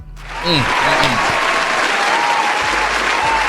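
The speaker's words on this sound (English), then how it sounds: "round of applause for you" Full, sustained clapping rises abruptly and holds as a dense wash on a podcast set, with a voice briefly audible underneath at the start.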